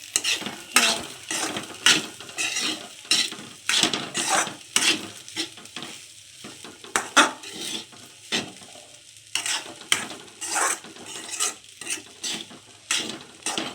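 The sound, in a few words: stirring and mixing fried rice in a pan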